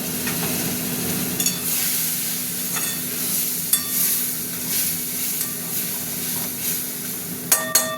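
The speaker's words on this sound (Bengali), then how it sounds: "অল্প করে একটু জল দিলাম, মশলাটা কষতে হবে তো।" Spice paste cooks in a pan with a splash of water for a prawn curry, a constant sizzle broken by sharp metallic spatula clinks and scrapes as it is stirred, close by.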